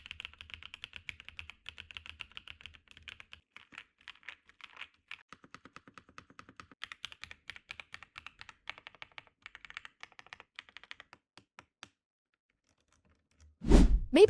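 Faint, quick keystrokes clatter on a mechanical keyboard fitted with KiiBOOM cat keycaps, typing in steady bursts for about twelve seconds before a short pause and a sudden louder rustle at the end.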